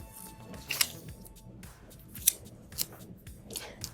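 Scissors snipping through paper pattern sheets while a sewing pattern sleeve is altered, giving several sharp, close cuts spaced out over a quiet room background.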